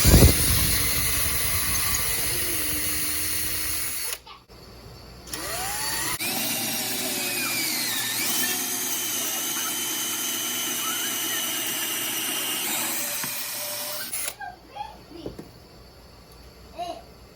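A steady mechanical whir of a power drill boring through a wooden workbench for several seconds at close range, with brief pauses and some voices nearby in a shop.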